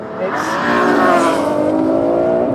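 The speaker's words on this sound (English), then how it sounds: "The engine's so intense, you have to be absolutely on it." Ferrari F12 supercar V12 engine accelerating hard, a loud close rising howl with climbing harmonics that builds over a couple of seconds and holds at full volume.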